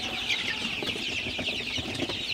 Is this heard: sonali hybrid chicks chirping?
yes